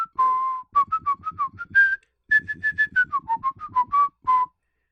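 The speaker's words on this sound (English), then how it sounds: "he just whistles a quick tune" A cartoon mouse detective character from the video game Mouse: P.I. for Hire whistles a quick, bouncy tune: clear, close pitched notes in short rapid phrases, with a brief pause midway, alone and without talk.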